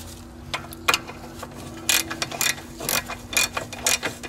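A hand ratchet clicks in short bursts while brake caliper fasteners are tightened on a car, close-up crisp clicking with brief pauses between strokes.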